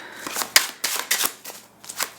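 Playing cards are shuffled close up in a series of quick riffling, crackling bursts, uneven in rhythm, with no speech.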